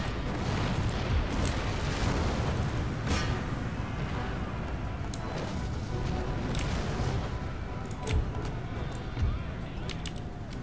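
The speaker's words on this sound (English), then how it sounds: "Fleeing under severe artillery fire." Artillery fire in Empire Total War, a low, steady battlefield rumble scattered with sharp distant cannon cracks and booms, with faint voices in the background throughout.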